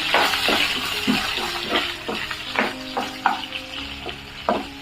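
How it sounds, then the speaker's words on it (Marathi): Chopped onion and curry leaves sizzle and fry in a pan for dal palak, with repeated stirring scrapes over a steady hiss, close and loud with no talking. "कडीपत्ता कांदा चिरलेला आणि चांगलं परतून घ्यायचं"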